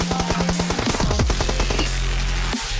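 Rapid automatic gunfire rattles in quick bursts during a squad-based shooter game, loud and close, followed by a few scattered single shots and a final sharp crack, with no speech.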